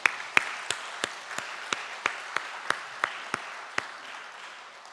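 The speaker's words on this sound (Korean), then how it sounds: "우리 박수로 환영하겠습니다" Scattered applause at a Sunday morning church service welcomes guests. Sharp, evenly spaced claps stand out above a soft, distant patter of the congregation.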